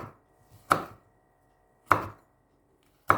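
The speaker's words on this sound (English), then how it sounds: "Slice 1 piece of chili." A knife slices through a chili on a cutting board in three crisp, separate chops about a second apart, close and clear against a quiet background.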